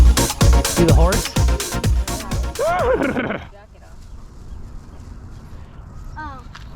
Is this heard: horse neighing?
yes